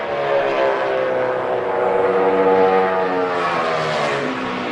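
A NASCAR Sprint Cup stock car on a qualifying lap at Fontana, its engine droning loud and sustained with a gradually shifting pitch, the car held near then easing slightly as it runs through a turn.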